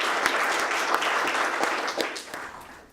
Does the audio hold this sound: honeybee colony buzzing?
no